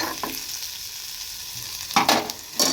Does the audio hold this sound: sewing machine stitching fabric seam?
no